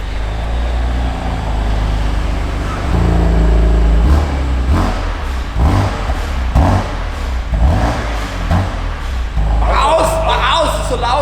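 A 2020 BMW M2 Competition engine revving inside the car, deep rumbling pulses rising and falling in repeated throttle blips, loud and close, with a voice talking over it.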